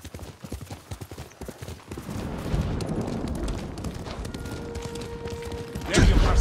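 Horse hooves clip-clop in the video game Ghost of Tsushima, a rhythmic trot of sharp hoof strikes that gives way to a denser galloping rumble, close and moderately loud.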